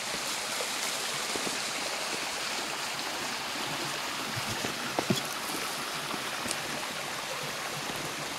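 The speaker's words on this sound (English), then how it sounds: "these springs flow into a waterfall, and right now it's a very, very dry, and the waterfall is still flowing" Spring water flows into a waterfall during a very dry spell, a steady broadband rushing and splashing heard close and continuous, with a few brief knocks and no talking.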